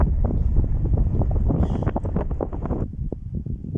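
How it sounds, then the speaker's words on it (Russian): Strong wind on a mountain summit in Cyprus buffets the microphone in heavy low gusts and rumbling rushes, continuous and close, with no voices. "Находясь на вершине, понимаешь, что ветер здесь постоянный спутник."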